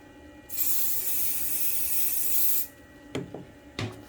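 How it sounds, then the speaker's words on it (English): A spray can sprays onto a guitar fretboard in a hissing burst of about two seconds, followed by two short rattling knocks, close and clear with no talking. "I'm going to spray, shake this up a little bit."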